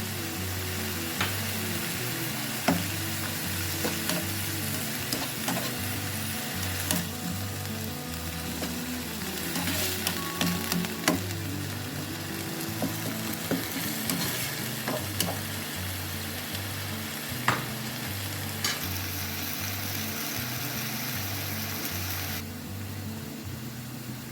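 Green chillies and green onions sizzle steadily in a pan for spicy cow brain cooking, a continuous frying hiss with occasional stirring scrapes and a steady low hum underneath, no voices.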